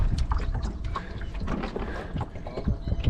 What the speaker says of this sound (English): so I'm just reversing the boat just to try and keep it in one spot